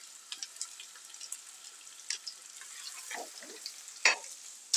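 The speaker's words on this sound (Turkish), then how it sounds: "Soğanlarımı ilave ediyorum" Chopped onions go into hot oil already scented with three bay leaves, giving a faint, quiet sizzle with scattered crackles and a few stirring scrapes throughout, with no voices.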